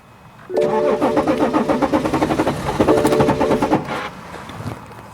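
A BMW X5 with a crank-no-start fault cranks, catches and runs roughly for a few seconds, then stumbles and dies, leaving a quieter fading rumble.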